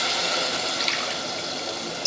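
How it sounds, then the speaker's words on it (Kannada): Water pours steadily into a pot of rice for mushroom biryani, a continuous close splashing and rushing fill lasting about two seconds with no talking. "ಈಗ ನಾನು ನೀರು ಹಾಕ್ಕೋತೀನಿ ನೋಡಿ."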